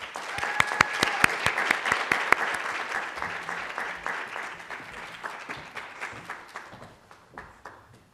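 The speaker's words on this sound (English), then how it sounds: "let's give our lovely moderators a round of applause as they grace the stage" A room of audience members applauds as moderators take the stage for a student government town hall with the college president, loud crisp clapping at first, then gradually thinning and fading toward the end.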